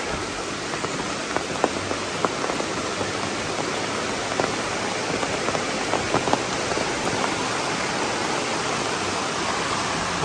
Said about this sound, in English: Look down on some nice cascades along Laurel Fork.